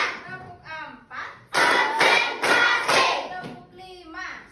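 Classroom of fifth-grade children doing a rhythmic concentration clap, with loud bursts of group clapping in short rounds between an adult's spoken counting and children's voices.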